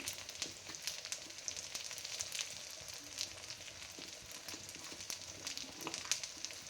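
Chana dal and grated coconut fry in a hot pan, giving a steady, close crackling sizzle with scattered pops throughout.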